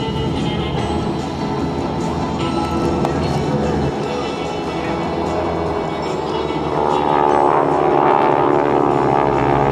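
SNJ airshow aircraft with 600 horsepower supercharged R1340 radial engines fly in formation at a military base open house, a loud continuous propeller drone that swells near the end while an announcer's voice carries over it.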